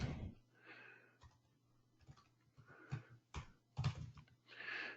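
Scattered computer keyboard keystrokes while entering a shipping address into a customer record, irregular clusters of clicks with pauses between them, close but faint, with soft breathing-like noise.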